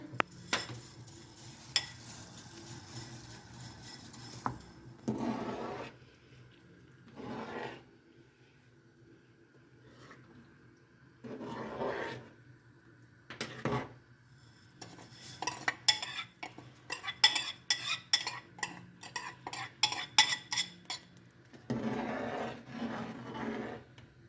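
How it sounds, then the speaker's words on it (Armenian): Small dry vermicelli pours into a soup pot, followed by bursts of a utensil scraping and clinking against metal, with quiet pauses between. "ժամանակն է, որպեսզի վերմիշելը լցնեմ ճաշի մեջ"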